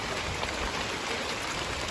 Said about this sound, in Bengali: ঝুমঝুম করে আবার বৃষ্টি চলে আসছে তো এই দেখো এদিকে বৃষ্টি পড়ছে